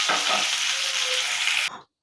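Pointed gourd and potatoes frying together in hot oil give a steady, loud sizzle from close by, continuous for nearly two seconds before cutting off abruptly.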